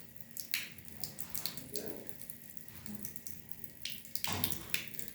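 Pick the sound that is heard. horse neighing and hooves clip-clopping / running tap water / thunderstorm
running tap water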